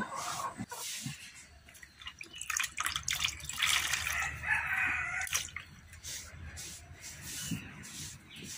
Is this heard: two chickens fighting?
yes